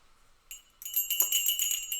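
Small bells on a traditional Guatemalan goat herder's hat jingle in quick bright shakes, near and fairly loud, starting with a brief tinkle and then a rapid rattling burst.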